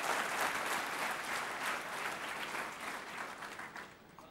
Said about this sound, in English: so a huge round of applause again for Luther.